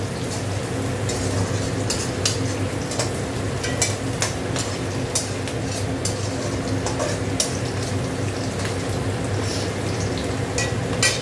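Rice, vegetables and chopped green chilli for egg mixed fried rice frying in a pan, a dense, even sizzle throughout with light clicks of the spatula stirring.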